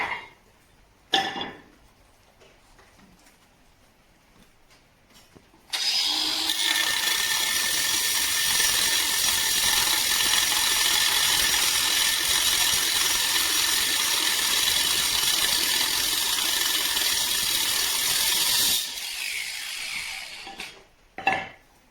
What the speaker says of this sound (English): So we're just cutting all these off like that, and then we'll put a screw through.